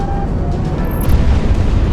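Ordnance dropped from an aircraft bursts against ships at sea in the combat flight game Project Wingman, a dull rumbling boom rolling under a steady roar of engine and wind.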